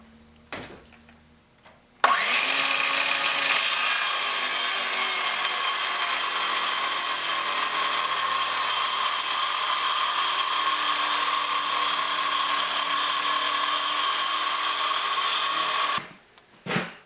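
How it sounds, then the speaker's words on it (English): A circular saw rips through 1/4 inch plywood along a jig fence, a loud, steady whining cut lasting about fourteen seconds after a quiet start, then stopping abruptly. "Now that my jig's in place, I'm ready to make my cut."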